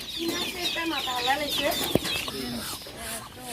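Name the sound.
native chickens and chicks clucking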